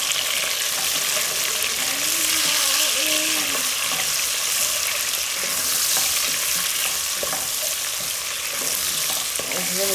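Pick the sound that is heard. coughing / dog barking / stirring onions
stirring onions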